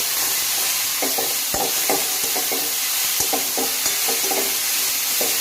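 Washed fenugreek leaves sauté in oil with cumin, giving a constant hissing sizzle broken by repeated scraping stirs and light utensil knocks at a close, even level, with no talking.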